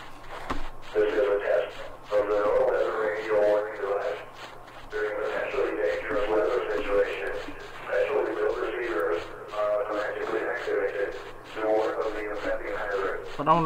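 In a horror video game, the Siren Head monster closes in with loud, distorted, radio-like voice sounds that come in long bursts with short gaps, close and ominous.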